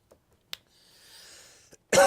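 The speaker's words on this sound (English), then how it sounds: "I might have to cough on you here." A few faint clicks and a soft breathy hiss, then a single loud, sudden cough close by.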